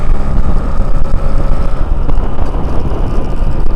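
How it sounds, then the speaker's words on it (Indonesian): A Yamaha RX King two-stroke motorcycle runs while being ridden, its loud, rough engine churning continuously under heavy wind buffeting, with no talk. "nyobain motor dua tak dulu cuy"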